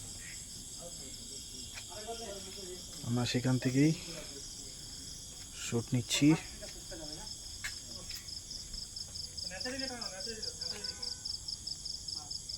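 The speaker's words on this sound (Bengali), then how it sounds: "নিস্তব্ধ পরিবেশ, ঝিঝি পোকার ডাক।" Crickets chirp steadily at night outside a balcony in dark, quiet surroundings, a faint continuous high trill under intermittent nearby speech.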